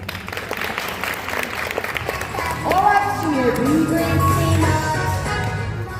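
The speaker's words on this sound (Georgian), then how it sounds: "ოვაციები ჩვენს მონაწილეს, ჩვენს პატარა ანგელოზს." An audience gives a preschool musical's little girl singer an ovation: dense, continuous clapping at moderate loudness that swells slightly midway, with tonal voices or music sliding through the crowd noise.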